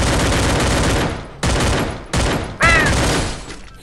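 Rapid bursts of AMG gunfire in the game Free Fire, loud and close, firing in several sustained volleys separated by short gaps.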